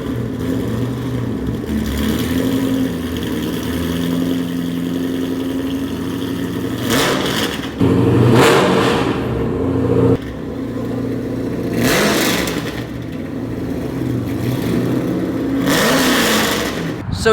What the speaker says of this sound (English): I think it's ready to get this first cold start as a straight pipe.